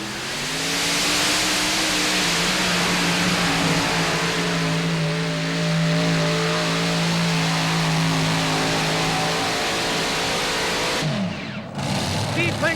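At a truck and tractor pull, a pulling tractor powered by five 526 cubic inch Merlin engines roars loud and close in a sustained, climbing howl, then cuts off abruptly near the end; a voice can be heard faintly under it.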